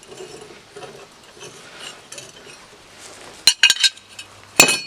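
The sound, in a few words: metal angle pieces of boat stand pivoting and swiveling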